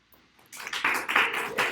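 Applause sound effect in a simple platformer game, a burst of clapping that swells quickly and holds steady in several pulsing waves, fairly close and bright, with no voices over it.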